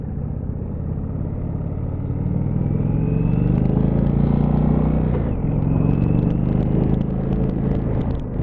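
Indian Chieftain 2019 motorcycle on a short test ride, its engine giving a steady, loud, low rumble with road noise that swells as it accelerates, then briefly dips and builds again; no talking.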